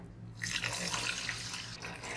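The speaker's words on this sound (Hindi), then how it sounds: "हाफ लीटर जो है वो मैं इसमें पानी ऐड कर रही हूँ" Half a litre of water runs into a cooking pan for orange marmalade, a quiet, continuous splashing pour lasting the full couple of seconds with no talking.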